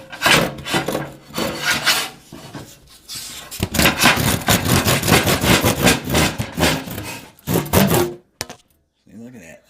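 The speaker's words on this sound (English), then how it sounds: "Got the saw." A hand saw cuts through wood with raspy back-and-forth strokes. They start scattered, then settle into a fast, steady rhythm before stopping abruptly, close and fairly loud.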